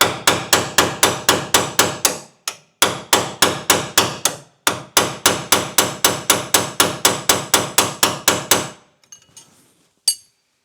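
A hammer striking to knock a part loose on a first-generation Toyota Tacoma steering rack during replacement, with loud, rapid metallic blows in three bursts separated by short pauses, followed by a faint clink and one final tap.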